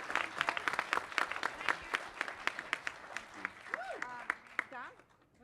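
An audience at a President's Council on Fitness, Sports & Nutrition meeting gives young people a steady round of applause, dense clapping throughout, with voices speaking over it toward the end.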